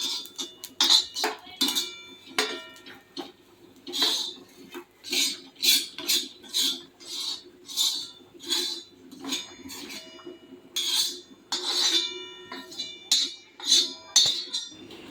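Roasted coconut scooped out of a pan onto a plate with a metal spoon: a long run of close, bright clinks and scrapes in an uneven, busy rhythm.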